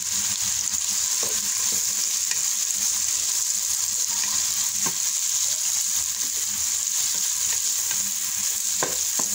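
Fish frying in a pan, giving a steady, dense sizzle with crackling spits throughout, close by and unbroken, with no voices.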